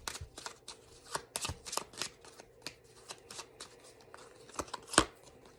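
Deck of chakra oracle cards being shuffled up close, a run of crisp, irregular riffling flicks and snaps at moderate volume, with one sharper card slap near the end.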